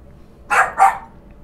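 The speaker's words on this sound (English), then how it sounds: "This dog's gonna make me lose my mind" A pet dog at home barks twice in quick succession, two sharp, fairly close woofs against a quiet room.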